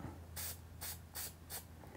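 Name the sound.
spray paint can spraying a skateboard deck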